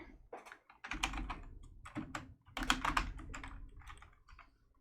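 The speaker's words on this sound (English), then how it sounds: "in the search bar, type in Plank" Fingers type a word into a computer search bar in quick, uneven bursts of keystrokes, close and clear, with short pauses between runs and no voices.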